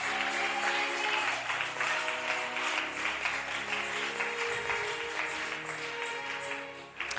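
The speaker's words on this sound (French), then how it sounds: "Applaudis d'abord pour le Saint-Esprit." Church congregation applauds in worship, a sustained rhythmic wash of clapping over a steady musical drone, moderately loud throughout.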